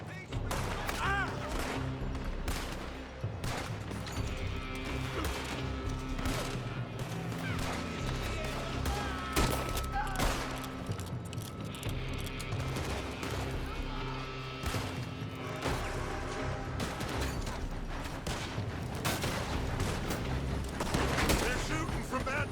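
Gunfire in the Western action game Red Dead Redemption 2, rapid scattered shots and heavier booms bursting repeatedly throughout a long firefight, with shouting voices mixed in.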